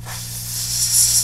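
Spray hisses steadily onto an iPhone 7 Plus logic board, a close, loud aerosol stream over a low electrical hum that grows brighter toward the end of the short burst.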